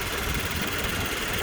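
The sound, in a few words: Toyota 86 2-litre boxer engine running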